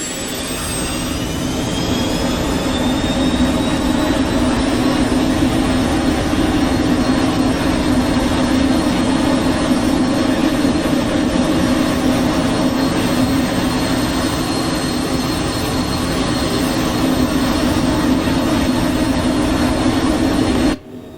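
A Cessna Citation Mustang jet's engines in Microsoft Flight Simulator during takeoff, a loud steady roar with a rising high whine lasting about twenty seconds, with no talking.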